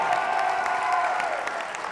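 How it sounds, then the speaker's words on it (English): An evening audience at a Dallas peace-in-the-streets gathering claps together, a dense, steady wash of hand claps filling the whole moment with no voices standing out. "let's give ourselves a hand clap on this evening"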